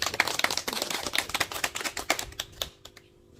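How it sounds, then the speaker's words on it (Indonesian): A small classroom group of students applauds a presenting group, with quick, close, overlapping claps for about two and a half seconds before they trail off into quiet. "Kita beri aplaus untuk kelompok."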